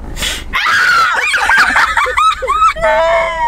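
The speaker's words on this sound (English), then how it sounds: "Why would you scream that loud?" A person lets out a loud, high-pitched scream that wavers in pitch and holds for about three seconds, close and with no talk over it.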